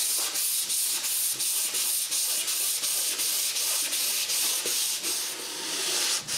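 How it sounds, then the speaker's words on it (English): Fine sandpaper rubs lightly over the flat panel of a wooden medicine cabinet door with a steady back-and-forth rasp, a close, continuous scratching that repeats in short even strokes. "I give it a light sanding. On the flat part, I use a very fine sandpaper."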